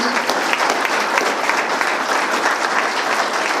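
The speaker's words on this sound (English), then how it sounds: "Give them a round of applause one more time, please" An audience gives a round of applause for the panel guests, with continuous, dense, even clapping from a large crowd, loud and close, with no pause.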